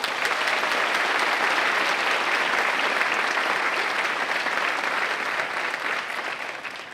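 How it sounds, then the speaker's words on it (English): Sustained applause from a large audience at a 2016 university convocation ceremony, dense and loud for the whole stretch, tapering slightly toward the end. "Please, they deserve a round of applause."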